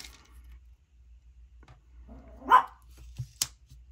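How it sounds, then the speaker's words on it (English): A dog gives a single sharp bark, then a couple of quieter short yelps, close by against a near-silent room. "I'm babysitting my friend's dog, and he's, like, barking at everything right now."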